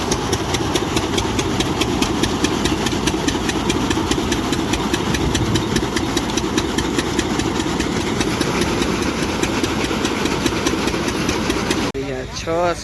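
A groundnut huller engine runs steadily at close range on a farm, a loud continuous mechanical drone with rattling, shifting briefly near the end.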